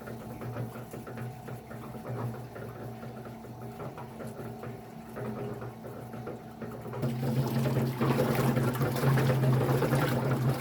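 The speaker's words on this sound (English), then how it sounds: "And let's put some water in." Water pours into a Harbor Freight cement mixer while its motor hums steadily. The splashing rushes in louder partway through and continues to the end, with no talking.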